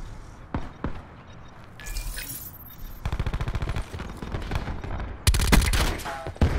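Rapid bursts of automatic gunfire from a Daemon 3XB in Black Ops 4 multiplayer, with a sustained rattling volley in the middle and a loud burst near the end among other game sounds.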